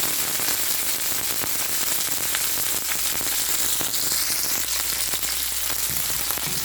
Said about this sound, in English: So let's begin our sauteing.